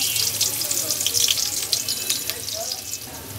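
Chopped onions and green chillies tipped into hot oil for a Bengali cauliflower and bean vegetable dish, giving a steady, close hiss of frying with watery crackle throughout.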